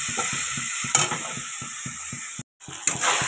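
Chicken mince and potatoes sizzle and fry in a pan, a steady crackling hiss broken by rhythmic scrapes and stirs of a utensil, with a short gap near the end.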